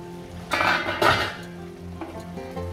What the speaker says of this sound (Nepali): यो घिरिमला यसरी भुट्नुपर्छ अहिले